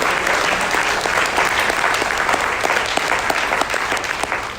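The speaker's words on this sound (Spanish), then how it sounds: "Denle un aplauso al Señor, hermanos" A church congregation gives sustained, dense applause, a steady wash of many hands clapping at full volume with no talk over it.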